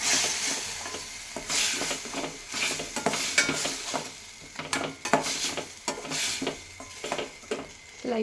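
A spoon scrapes and stirs in a pan as onions, turmeric and rasam powder sauté over a steady sizzle, with repeated clinks and scrapes in an uneven rhythm.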